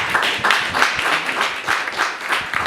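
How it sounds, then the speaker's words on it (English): An audience at a corporate event for the Alpha Enterprise Group claps in a dense, steady round of applause, moderately close and sustained, with no speech over it. "A round of applause"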